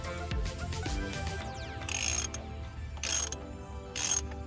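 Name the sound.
ratchet with 16 mm deep socket loosening a spark plug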